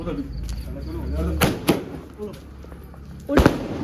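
Sky shot fireworks launch during Diwali celebrations, sending out a few sharp cracking bursts, with a louder one near the end, over low background noise and nearby voices.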